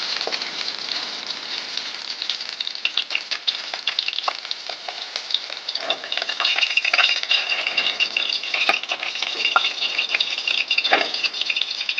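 Tilapia fish frying in hot oil in a pan for a village-style dish, with a steady, dense sizzle that runs the whole time, broken by occasional crackles and pops.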